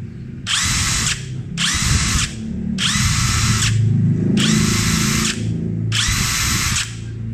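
A Kamolee DTW700 cordless impact wrench whirs in five bursts of about a second each, separated by brief pauses, loud and close with a low mechanical rumble underneath.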